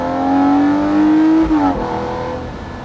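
A Lamborghini Murcielago LP640 Roadster engine revs hard and loud close by, the V12 note rising steadily before dropping sharply as the throttle is released, then settling into a lower rumble.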